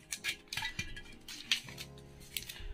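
Coins clink and jingle as they are dropped one after another into a container, a few bright metallic taps scattered over a quiet, faint background with no talking.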